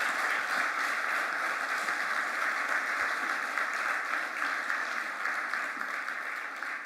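Steady applause from an audience at a resilience dialogue conference, broad and even with no break for nearly seven seconds, heard from a middle distance without voices on top.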